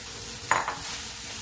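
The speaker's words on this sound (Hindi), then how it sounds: "और इन चावलों को हम इस मसाले में अच्छे से मिक्स कर लेंगे।" Cooked rice is stirred into fried tomato masala in a pan: a single brief scrape of the spoon against the pan rises over a faint background sizzle, with no talking.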